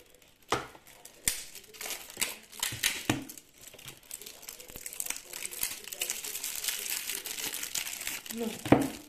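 Crinkly plastic wrapping on a Speed Duel GX card box being pulled and crushed, with sharp crackles and rustles coming in bursts, close and fairly quiet.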